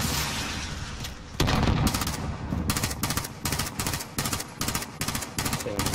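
Gunfire in the video game Call of Duty Warzone, loud rapid bursts of automatic fire in repeated volleys with a heavier boom early on, no talking over it.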